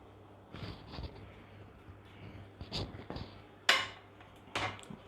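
A spoon scrapes and clinks against a pot while marinated chicken for biryani is mixed, a few scattered taps and one sharper knock, fairly close and quiet.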